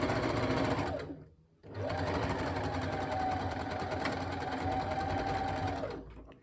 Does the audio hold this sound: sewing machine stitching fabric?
yes